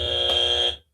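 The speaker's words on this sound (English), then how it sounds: "Where's my buzzer?" A loud, steady electronic buzzer tone sounds alone for under a second, then cuts off abruptly into silence.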